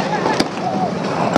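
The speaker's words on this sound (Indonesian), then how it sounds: "terdengar ini pihak kepolisian terus berupaya untuk menembakkan gas air mata" Police fire tear gas canisters at a student and labor protest: two sharp, brief pops about a second apart cut through a steady roar of crowd and outdoor noise.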